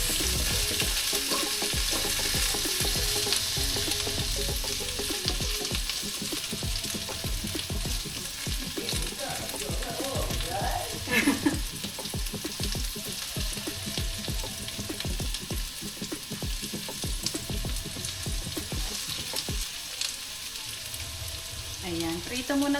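Potatoes and carrots fry in hot oil for a chicken curry, a constant dense sizzle with occasional stirring scrapes and clatters, close and steady throughout, with no talking.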